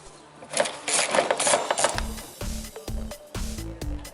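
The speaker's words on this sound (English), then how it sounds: "right there is the nut with the 10mm socket again. We need to take it off" A 10mm socket works a nut loose on the rear bumper of a 2001-2009 Chrysler PT Cruiser, giving close rattling ratchet clicks and short rhythmic bursts of turning.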